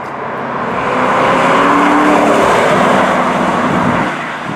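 A 2005 Ford GT engine drones while the car is driven, a smooth, steady mid-pitched roar that swells slightly then eases, heard from inside the car with no talking.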